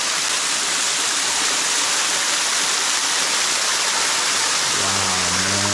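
Water gushes from a cave ceiling and pours onto flowstone, a loud, steady roaring splash close by, with a voice starting to speak near the end.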